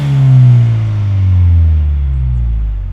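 A Ford Bronco's 2.3L engine revs loud and close through a Steeda axle-back exhaust, a deep rumbling climb that swells and then eases off over about three seconds, with no voices.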